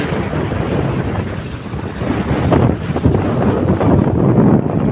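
Steady wind buffeting a microphone, a loud rumbling roar that swells stronger in the second half with no voices.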